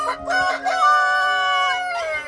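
A rooster crows in a village at dawn, one long loud cock-a-doodle-doo, close by and alone without any talk.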